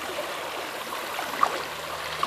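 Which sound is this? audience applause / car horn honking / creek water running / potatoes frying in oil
creek water running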